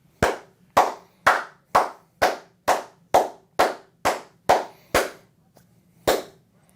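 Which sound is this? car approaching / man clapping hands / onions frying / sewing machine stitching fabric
man clapping hands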